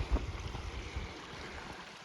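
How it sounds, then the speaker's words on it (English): Small creek trickling through a semi-arid canyon, a soft, close babbling of water over rocks, quiet and continuous with no voices. "finally came across the creek"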